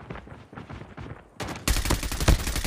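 Gunfire from the Call of Duty Mobile video game, starting as spaced, muffled shots and then breaking into a dense, loud burst of rapid automatic fire toward the end.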